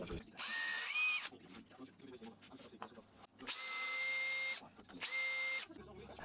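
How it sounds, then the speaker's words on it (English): Two bursts of a power drill boring holes in aluminium angle, a shorter one first and a longer one after a gap with faint clicks and handling noise; a third brief run of the drill spins up at the end. "I marked up for some holes which I then drilled and countersunk"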